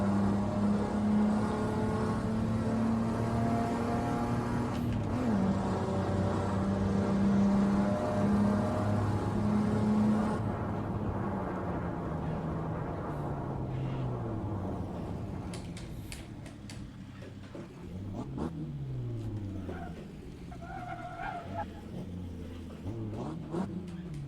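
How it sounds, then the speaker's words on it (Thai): A Toyota Hilux Champ pickup engine in the racing game Assetto Corsa revs and shifts through the gears, fairly quiet and steady at first, then with more irregular rises and drops, with no talk. "่เครื่องยนต์นี้ไม่ค่อยเร้าใจ เท่าไหร่นะฮะ"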